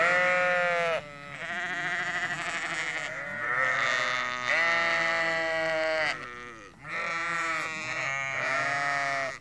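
Sheep and lambs bleat loudly and close by, several long overlapping calls following one another almost continuously, with no talking.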